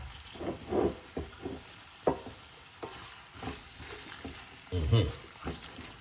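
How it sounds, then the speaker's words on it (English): Jackfruit dropped into a pot of seasoned curry base and stirred in Jamaican home cooking, with scattered soft thuds and scraping stirs plus a faint sizzle, under occasional talk. "Put the jackfruit in it, just like this."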